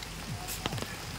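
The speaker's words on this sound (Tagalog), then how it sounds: "sobrang lakas na ng ulan dito sa amin" Heavy rain pours down at night over a flooded yard with poultry, a dense, steady hiss of drops on surfaces with a few sharper splats, moderately loud and continuous.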